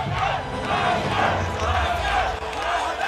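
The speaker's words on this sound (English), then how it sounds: "You hear the chant from this Naypyidaw Myanmar crowd of Mite Yine" A large arena crowd in Naypyidaw, Myanmar roars and chants for the fighter Mite Yine at a fight event, a dense, loud rhythmic mass of voices that pulses steadily throughout.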